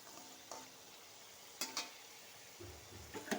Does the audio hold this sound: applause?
no